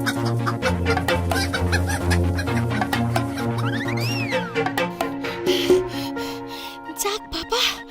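A cartoon chicken clucks on a farm. Repeated bursts of clucking and squawks sit over a steady musical background, including a rising then falling squeal midway.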